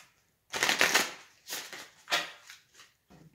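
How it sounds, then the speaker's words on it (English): Three or four quick riffling bursts of tarot cards being shuffled, close and crisp, with short pauses between them and no talking. "I'm going to do 2 shuffles"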